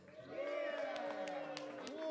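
A live comedy-show audience cheers, whoops and claps as a loud, sustained crowd roar that swells quickly and holds for about two seconds.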